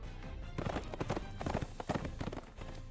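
Horse hooves clip-clopping in the Twisted Wonderland video game, a steady rhythmic run of loud, close hoof clops with a faint whinny, under game music and without talk.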